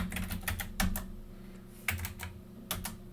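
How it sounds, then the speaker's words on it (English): Commands being typed on a computer keyboard for Cisco switch and router configuration: close, crisp key clicks in short irregular bursts with brief pauses between, heard alone without talk. "I'm going to type in no IP routing."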